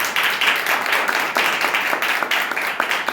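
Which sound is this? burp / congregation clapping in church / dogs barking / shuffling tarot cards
congregation clapping in church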